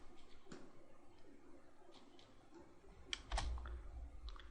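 A single computer keyboard Enter key press while setting up a virtual machine to boot from a physical CD drive, a sharp click near the end over faint room noise and distant clicks, with no talking.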